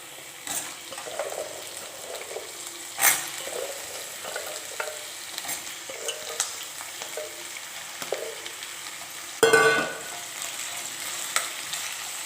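Washed potatoes are tipped into a pan of softened, sizzling onions and stirred. A low fry hiss runs under scattered scrapes and knocks, with a louder clatter near the end as the potatoes go in, close by and without speech.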